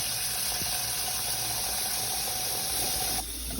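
Water pours from a tap in a steady, close hissing stream to fill a pot for tea, running continuously before the flow shifts and drops near the end.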